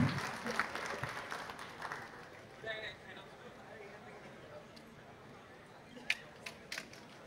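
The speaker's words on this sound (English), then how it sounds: "A big round of applause for all of them" An audience at an investment conference applauds a panel, with dense clapping at first that thins and fades as a person speaks over it, with a few sharp clicks near the end.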